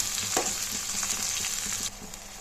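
Steady close sizzle of food frying in hot oil, with soft scraping stirs now and then.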